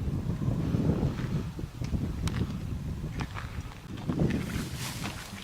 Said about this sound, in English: It is getting windy out here.